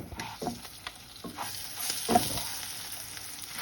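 Methi (fenugreek leaf) chutney frying in a hot tempering as a spoon stirs it, giving a soft steady sizzle with scraping strokes of the spoon in the pan, close and moderately quiet, no voices.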